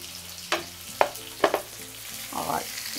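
Chopped onions fry in a pan while being stirred, a low sizzle broken by a few sharp scraping knocks of the spoon and a brief louder burst of frying near the end.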